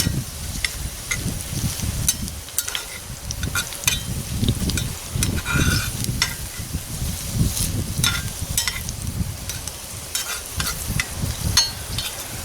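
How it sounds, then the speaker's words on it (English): Ingredients frying in a cast iron pan over a campfire on a Hobo Stove, a steady close sizzle with stirring scrapes and crackles running throughout, with no voices. "we're going to actually fry these and kind of get them pre-softened up, caramelize just a little bit"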